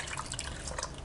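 Water is added to a simmering Tamil anchovy fish curry (nethili meen kulambu), giving a soft, brief trickle and drip, faint and alone.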